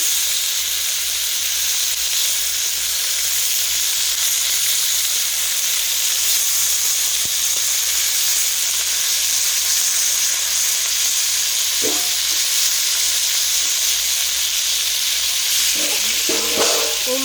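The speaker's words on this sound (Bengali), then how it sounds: "কি সুন্দর একবার মাছ ভাজা হচ্ছে" A large pangas fish, about two kilograms, fries in its own oil in a pan, a loud continuous close sizzle with a few light utensil taps near the end.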